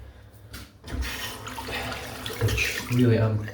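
Water runs from a tap as hands are wetted under it, a short, soft, steady splash and hiss that swells slightly near the end.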